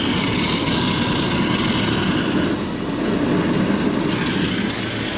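A steady, loud rushing whoosh of air from an air conditioner's airflow, continuous and even throughout with no talking.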